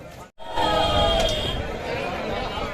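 A huge crowd at an outdoor political rally, a dense continuous babble of many voices that swells in after a brief dropout and stays loud and steady.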